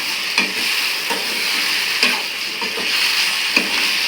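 Chopped red radish sautés in a hot pan, a continuous close sizzle broken by a few soft stirring scrapes, with no voices.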